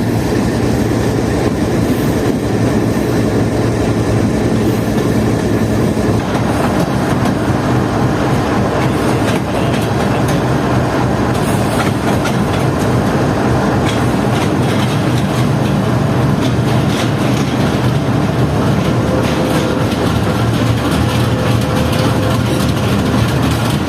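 A GU40 diesel locomotive throttles up while shunting, a loud, sustained heavy engine rumble with a rising drone and faint rail clatter.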